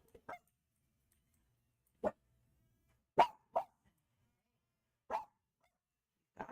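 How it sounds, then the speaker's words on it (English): Chihuahuas barking in sharp, sparse yaps separated by silent gaps, fairly close, nothing else going on. "I apologize for the dogs."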